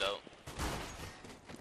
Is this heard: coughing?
no